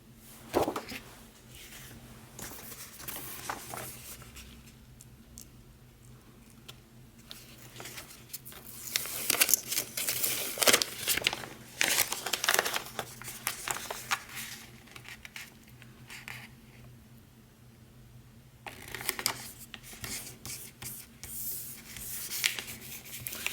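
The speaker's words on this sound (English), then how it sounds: "I am just going to put all of these stickers on." Stickers are peeled and pressed onto a 2025 planner in soft bursts of crinkling, rubbing and tapping, quiet and close, with brief pauses between handling sounds and no talking.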